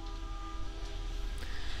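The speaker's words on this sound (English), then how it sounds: "I have much apologies for the train noise in the background." A train passes in the background, heard faintly from a distance as a low rumble with sustained horn tones, steady and unaccompanied by voices.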